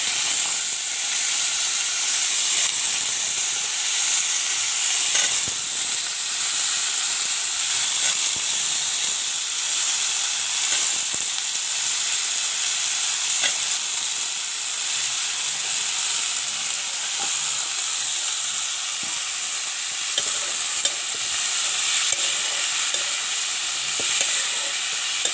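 Papaya (amita) sizzles steadily in a hot frying pan for Assamese amita khar, a continuous bright hiss with occasional scrapes and clinks of stirring, close and loud with no talk.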